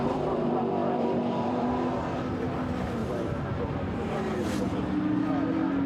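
GT race cars in a Blancpain GT Sports Club qualifying race at Silverstone, engines droning steadily at a distance with harmonic whine, continuous and fairly loud, with commentary-style speech faintly mixed in.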